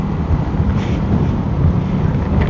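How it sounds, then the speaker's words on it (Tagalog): Wind buffets the microphone during a KRV 180 motorcycle ride near an expressway in Taiwan, a steady low rushing roar with no talk. "Lakas na yung hangin dito eh."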